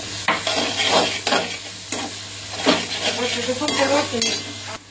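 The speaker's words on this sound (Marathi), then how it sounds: "बारीक गॅसवर आपल्याला कांदा जो आहे तो भाजून घ्यायचा आहे." Onions sizzle softly in a pan on a low flame while a spoon stirs and scrapes in uneven strokes, close by, with no voices.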